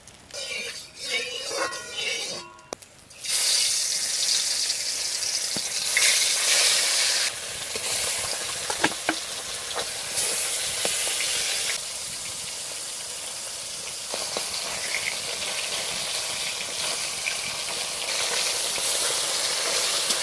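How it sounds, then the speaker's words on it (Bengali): Parshe fish fry in oil in a wok, a loud continuous sizzle with crackles and spatters that starts after a short quieter moment of handling and holds steady throughout. "কড়াইতে তেল দিয়ে দেবো, মাছগুলো আগে ভেজে নেব"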